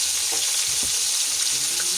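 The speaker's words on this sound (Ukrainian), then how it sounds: "Перевернули і смажимо." Silver carp sizzles and crackles in hot oil in a pan, a steady close frying hiss with small pops.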